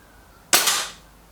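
A single sharp crack from an Artemis M11 air rifle fired at a target, a sudden close report with a short decaying tail after a quiet moment.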